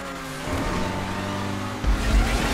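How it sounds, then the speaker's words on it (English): An RE7B race car in GTA 5 Online, its engine droning steadily at high revs with a sharper surge near the end, loud and close with no talk. "Good to be back behind the wheel of my RE7B."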